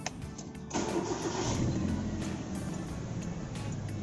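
A car engine cranks and catches after a brief electronic tone as a push-button start is pressed, then settles into a steady idle hum inside the car, with no talking.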